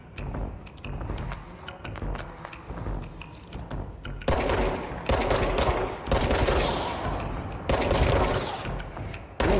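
Gunfire in the video game Control, with rapid bursts of automatic fire and heavy blasts that grow louder and denser midway, over a background of clattering shots and action noise, with no talking.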